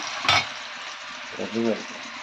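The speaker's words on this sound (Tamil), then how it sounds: "சிம்மில் வச்சுருந்து வறுத்து எடுத்துக்கலாம்" Food frying in a pan over a low flame gives a steady, soft sizzle close by, with a brief clatter near the start and a short voice partway through.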